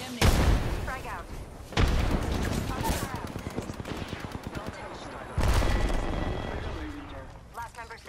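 Loud booming blasts go off in an Apex Legends battle, with frag grenade explosions amid bursts of rapid gunfire. Sharp, close detonations land at intervals over a continuous rattling background, with voices speaking during the fight.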